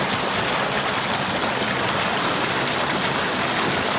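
Steady, dense monsoon rain in Konkan hisses continuously and evenly, a close wash of falling water with no voices.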